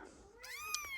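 A Ragdoll cat in heat gives a single rising, drawn-out meow, clear and fairly close in a quiet indoor space.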